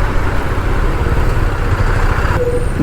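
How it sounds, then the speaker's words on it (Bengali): Steady low rumble of heavy truck engines on a highway, idling or passing, continuous and fairly loud throughout. "কত লরি সকাল সকাল।"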